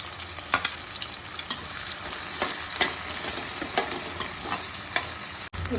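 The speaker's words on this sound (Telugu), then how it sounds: "ముందుగా ఉల్లిపాయలు వేసుకుంటున్నానండి" Two chopped onions frying in oil in a pan, a steady close sizzle punctuated by regular light taps and scrapes of a stirring spoon roughly every half second.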